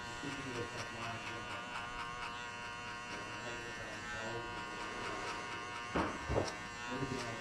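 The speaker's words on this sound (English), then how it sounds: "So you grab the clipper, open, make it half." An electric hair clipper buzzes steadily and close while giving a buzz cut, a constant humming drone with brief louder passes near the end.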